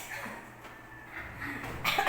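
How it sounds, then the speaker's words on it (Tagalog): A short, quiet cough in a noisy indoor space, with faint background murmur and a brief rustle at the end. "Napaubo-ubo pa."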